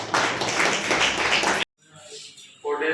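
A round of applause from the audience welcoming a chief guest at the inauguration ceremony of a 3D printing training program, dense and steady for over a second and a half before cutting off, followed by quieter room sound and a voice.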